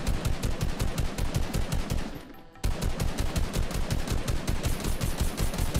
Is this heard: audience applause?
no